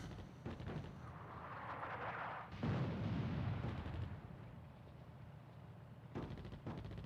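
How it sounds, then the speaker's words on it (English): Italian artillery fires in the war game Attack At Dawn: North Africa, heard as faint, muffled rumbling booms with rolling low-end blasts and no voices. "This Italian artillery is ready to fire."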